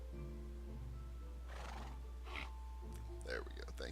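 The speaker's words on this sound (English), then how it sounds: "we have a donkey now" A donkey in the Minecraft video game brays in a few short, rising bursts over a steady low hum, with a faint voice speaking in the background.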